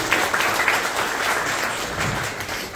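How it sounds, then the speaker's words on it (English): A crowd at a collaboration and matchmaking event at the Indonesian Embassy in The Hague applauds, a dense, steady wash of many hands clapping that fades slightly at the end. "Maybe we can give a round of applause for everybody's here."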